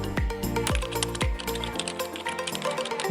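Typing on a computer keyboard in a Tamil tutorial on applying for an e-PAN card online: a quick run of close, crisp key clicks with a few sharp strikes early on, followed by lighter, denser tapping.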